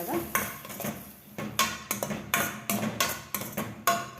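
A spoon knocks and scrapes around a bowl while gobi manchurian batter is mixed from a half packet of ready mix. Sharp clinks repeat in a steady rhythm close to the microphone, with no one speaking.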